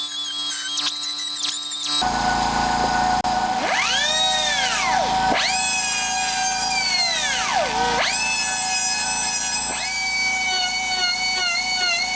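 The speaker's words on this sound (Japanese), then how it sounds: "じゃあリューターでちょっと削ると。" Homemade DOHC cylinder head for an FIM152-type engine being ground with a handheld rotary tool, its high whine rising and falling in pitch over several passes, loud and close, after a brief burst of clicking at the start.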